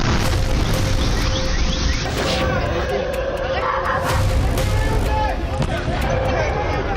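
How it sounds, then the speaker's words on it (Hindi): A drone explodes on Shalom Aleichem Street in Tel Aviv at night, with heavy booming rumble and crashing noise spread over several seconds, mixed with murmuring voices. "यह ड्रोन इजराइल की शलोम अलेशेम स्ट्रीट में गिरा और धमाके से इलाका दहल उठा"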